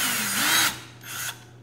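A brief whirring burst from a power drill, then a short second whir after a pause, close by and fairly quiet, with a steady hum underneath.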